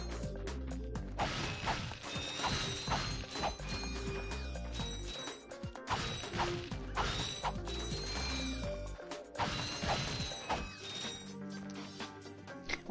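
Wooden crates break apart in quick succession in Ratchet & Clank, with repeated cracking smashes, clattering bolt pickups and busy game effects over a steady backing, all close and loud.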